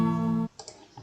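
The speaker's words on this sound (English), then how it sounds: "So I got like a guitar strum sound." A Scratch guitar strum sound effect rings out once as a bright, sustained chord for about half a second, then cuts off abruptly, leaving near silence with a few faint clicks.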